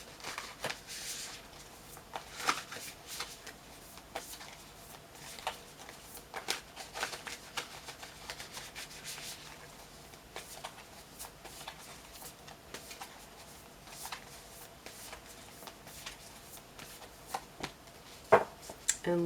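Spirit animal oracle cards being shuffled by hand, a close, quiet run of soft riffling flutters and light card taps repeating steadily throughout.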